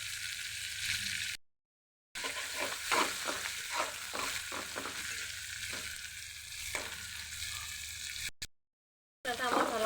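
Spice paste sizzles and fries in a pan for a stir-fried arum stolon dish with dried fish, giving a steady hiss broken by rhythmic scraping stirs close to the microphone, with brief silent gaps.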